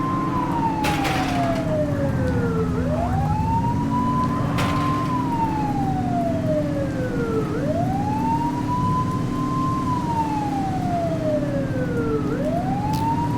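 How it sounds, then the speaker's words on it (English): A police siren in the video game The Precinct wails, sweeping up and down in slow repeating cycles, steady and loud over a constant engine drone. "Turn that siren off."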